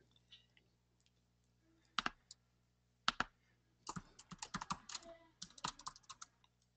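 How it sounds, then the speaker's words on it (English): Bursts of close keyboard typing, a couple of isolated key presses followed by a quick flurry of clicking keystrokes in a quiet room. "I could hear you typing"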